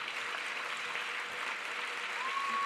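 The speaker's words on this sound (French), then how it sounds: "J'espère que vous applaudirez autant après." Applause from an audience at a graduation ceremony, a steady wash of clapping heard from a moderate distance, even and sustained for a few seconds.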